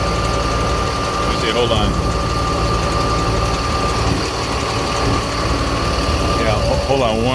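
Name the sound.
jet fuel truck engine idling while pumping fuel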